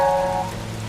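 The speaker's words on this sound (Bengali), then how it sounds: "বৃষ্টি হচ্ছে, ভিজে গেলে অসুখ হতে পারে" Cartoon rain falls in a short, steady patter with a faint tonal hum underneath. No voices are heard.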